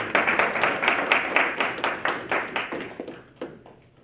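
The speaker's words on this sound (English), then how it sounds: "Let's bring her on with a round of applause" Audience applause welcomes a city council member to the stage at a community economic meeting about Trotwood, a crisp run of distinct claps that thins out and tapers off toward the end.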